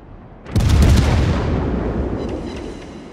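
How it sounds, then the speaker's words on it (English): Naval guns from warships fire in the World of Warships video game, one loud booming blast followed by a long rumbling decay with a few faint cracks trailing behind it. "Concentrate fire on the designated target."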